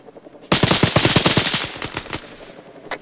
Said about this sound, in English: those machine guns will light this fuck up.